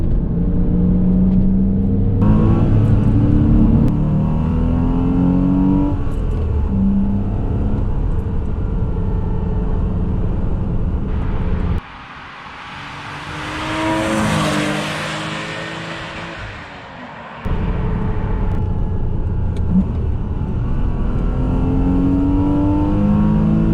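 Car being driven hard, its engine revving and accelerating loudly with shifting pitch through gear changes, a brief quieter stretch of rushing wind in the middle, recorded from inside the vehicle with no talk.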